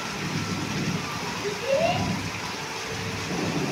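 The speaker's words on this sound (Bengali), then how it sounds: "কিভাবে বৃষ্টি হচ্ছে দেখো" Heavy rain pours onto a balcony during a downpour that follows intense heat, making a steady, dense hiss of falling water at moderate loudness throughout.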